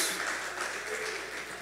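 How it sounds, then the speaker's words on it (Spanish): A church congregation applauds in a brief burst of dense, steady clapping, with some voices mixed into the noise. "Démosle un aplauso a Jesús."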